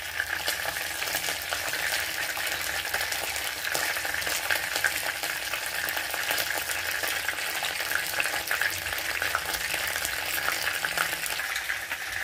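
Fish fries in a pan with a steady, close, loud sizzle and crackle that runs unbroken throughout, with no voices over it.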